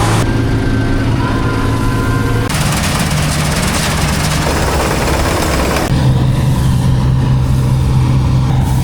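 A 1981 PRT combine harvester cutting barley, its engine droning loudly with a harsh, noisy clatter from the cutting header; the tone shifts abruptly at a couple of points, with no speech.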